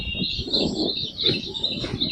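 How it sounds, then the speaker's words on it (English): Small birds in a village tree give rapid, high, thin chirps, repeated close and clear over a soft, muffled outdoor background. "there are a small tiny bird sitting here"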